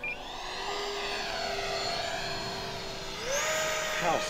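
A BAE Hawk Red Arrows 50mm EDF radio-controlled model jet at about half throttle on a 2200 3S battery gives a steady whining ducted-fan hum that rises in pitch toward the end, moderately close, with no talk.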